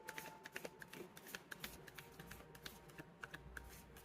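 Tarot cards shuffled by hand close up, a quick irregular run of soft crisp riffling clicks, quiet and alone with no talking.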